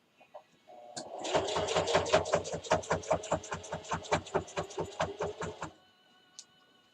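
A domestic sewing machine stitches a quilted pot holder in a quick, even chatter of needle strokes. It starts, runs steadily for several seconds and then stops, close and clear in a quiet room.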